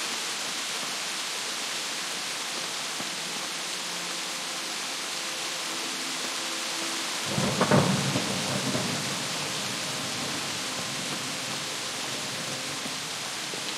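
Steady broadband rain pours in the video game Kingdom Come, with a loud low thunder rumble breaking through midway and fading back under the constant downpour.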